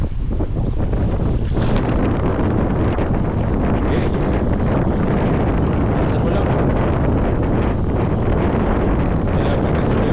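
Strong wind roars over a small boat at sea, loud and constant, buffeting the microphone, with waves splashing and a few short spoken words.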